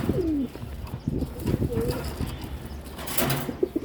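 Pet pigeons in a home loft coo in soft repeated low calls nearby, mixed with rustling and someone talking over them.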